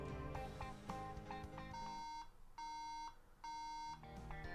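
A MacBook Pro with a fault beeps at power-on: three long, steady, evenly spaced tones ring out clearly over a busy background of other sounds.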